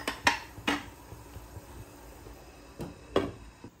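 A metal lid clinks and clatters onto a cooking pot in a few light, separate knocks, close by and fairly quiet.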